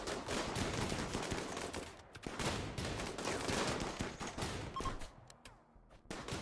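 Dense gunfire in the video game RimWorld, rapid overlapping shots and bursts crackling almost continuously, thinning out with a few isolated shots at the end, with no talk.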